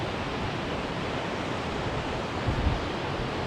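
Outdoor wind blows in a steady broadband rush that buffets the microphone, with a couple of faint low thumps near the end and no voices.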